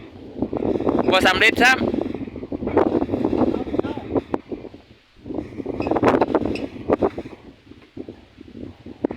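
Storm wind buffets the microphone in strong, rushing gusts during preparations against an approaching storm, with loud people talking over it throughout.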